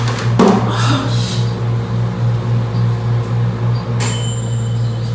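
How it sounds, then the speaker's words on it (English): A microwave oven runs with a steady low electrical hum and whir throughout, with a faint click and a brief higher tone near the end, loud and close in a quiet room. "I really wish this microwave wasn't making noise right now."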